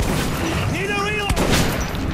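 Gunfire in Metro 2033 Redux, heard as a heavy booming shot amid thick, noisy game ambience, with a rising whistling tone just before the blast.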